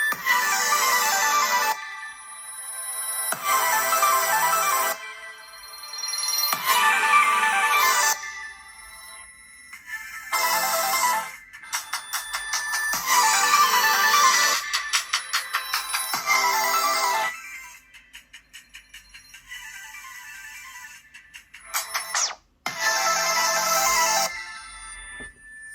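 Several Pixel 6 Pro ringtones play loud one after another, bright melodic tones and chimes in separate bursts with short gaps between them, near and clear with no talking.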